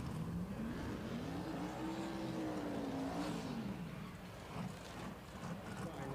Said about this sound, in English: Here comes the Chevrolet Nova in the right side.